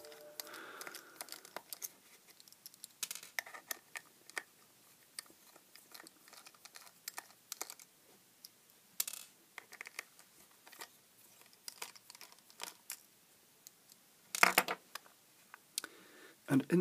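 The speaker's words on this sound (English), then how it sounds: "And I'll take these screws out." Small screws being taken out of a cheap HS1010A handheld light meter, giving sparse faint clicks, scrapes and rattles of a screwdriver and plastic casing, close up with no talking.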